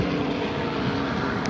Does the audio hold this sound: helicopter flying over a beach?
yes